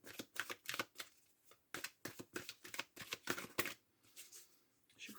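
Oracle cards are cut and shuffled by hand in a quick run of papery riffles and soft slaps, close and fairly quiet, with brief pauses between bursts.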